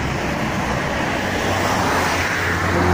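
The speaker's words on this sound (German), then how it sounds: "hier ist die Autobahn, auf der ich jetzt schon eine ganze Weile laufe" Steady, loud roar of Autobahn motorway traffic heard from nearby on foot, a continuous wash of tire and engine noise with no clear gaps between vehicles.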